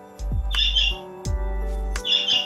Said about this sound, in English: The birds are crazy.